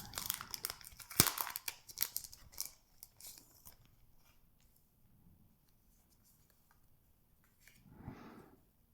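Packs of Chinese-themed stationery stickers being opened, close crinkling and tearing of packaging in the first few seconds, then near silence with a soft rustle near the end.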